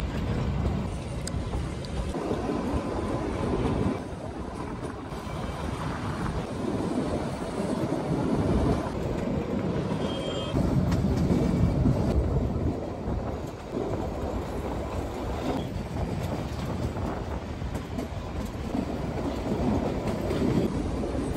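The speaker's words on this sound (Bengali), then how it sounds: "বারক থেকে আমাদের ট্রেন রওনা দিল।" A Kalka–Shimla narrow-gauge toy train with a Vistadome coach pulls out of Barog station on the mountain railway, giving a continuous heavy rumble with rattling and wheel clatter from onboard, steady throughout and without voices.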